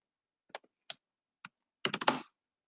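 Typing on a computer keyboard: three isolated, crisp keystrokes spaced apart, then a quick burst of several clicks, close against a silent background.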